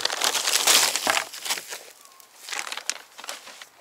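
Plastic packaging of a Green Mountain firewood bundle being handled and opened at a lakeside RV campsite, loud close crinkling and crumpling that comes in bursts and then fades to lighter rustles.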